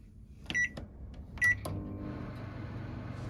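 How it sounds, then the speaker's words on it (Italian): A microwave oven gives two short, bright beeps, then starts up into a steady low electric hum with a faint fan whir, close by in a quiet kitchen with no one talking. "Mai avrei pensato di usarlo così tanto il microonde."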